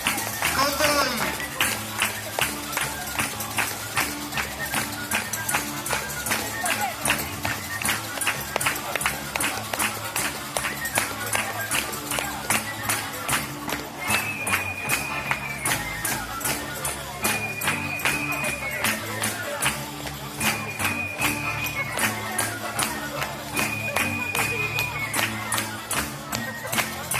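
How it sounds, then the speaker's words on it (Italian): A live audience at a Sicilian music group's evening show claps in steady rhythmic time for the whole stretch, loud and sustained, with music playing and a voice speaking over it. "Ancora un meraviglioso applauso, signori, al nostro gruppo"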